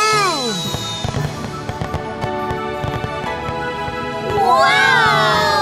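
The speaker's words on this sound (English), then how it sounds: "Incredible fireworks!" Cartoon fireworks burst in a children's animated festival scene, with whistling rising streaks at the start and end and a crackling run of pops between them, loud and bright.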